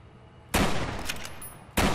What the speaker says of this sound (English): I might as well just start shooting randomly at all opponents